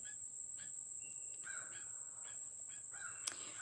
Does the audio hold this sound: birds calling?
yes